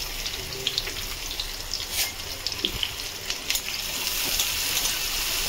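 Chopped onions fry in hot mustard oil over a high gas flame, giving a steady, even sizzle with scattered crackles and pops throughout.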